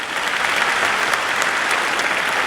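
Dense, steady audience applause from a large crowd at a televised Tamil debate show, clapping loudly and evenly throughout with no break.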